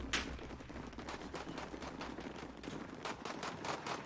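Rapid bursts of automatic gunfire in Call of Duty: Modern Warfare, sharp repeated cracks in a steady stream at fairly low level, with no talk.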